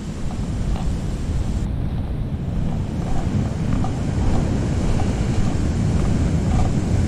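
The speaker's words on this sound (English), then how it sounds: "the waves are churning" Ocean waves churning on a washed-out Treasure Coast beach in Florida, a continuous loud roar of surf with heavy wind buffeting the microphone and no voices.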